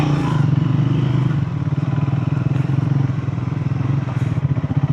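A Triumph Speed 400 motorcycle is ridden into a wildlife sanctuary near Pocharam Dam, its engine giving a steady, close, throbbing drone with rapid pulsing firing and slight rises in revs.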